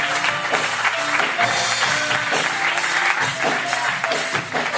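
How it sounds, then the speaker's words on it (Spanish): A congregation applauding at a church intercession night, dense sustained clapping with music tones running underneath and a voice faintly audible in the mix. "que sea más fuerte ese aplauso"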